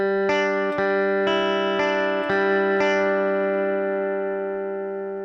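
An electric guitar plays a song's intro riff slowly: about six single notes picked one at a time, each ringing on with a bright, slightly driven tone, then a final note fading out. It is close and clear, with no voice.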